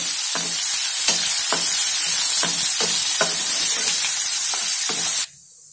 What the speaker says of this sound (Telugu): ఇప్పుడు ఉల్లిగడ్డ ఫ్రై అయ్యే వరకు మనం కలుపుకుంటూ ఫ్రై చేసుకోవాలి.